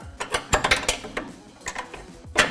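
Ratchet clicks and metallic mechanical rattling as the nut and bolt are worked loose from an upper control arm on a 2017-2018 Ford F-150 Raptor, in close, uneven bursts with no talking.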